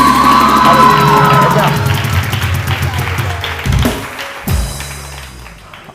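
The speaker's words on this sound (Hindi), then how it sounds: "बहुत सारी तालियां बिलाल के लिए, उरूसा के" Studio audience at a TV morning show bursting into loud applause and cheers, fading over several seconds, with a host speaking briefly near the end.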